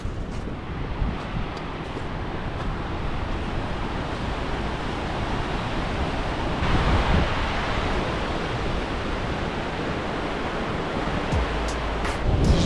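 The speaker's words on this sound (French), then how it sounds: "petit détour par Godafoss, la cascade des dieux" Godafoss, a high-flow waterfall in Iceland, gives a loud, steady roar of falling water that fills the whole stretch without a break. It has a faint brief swell partway through and no voices.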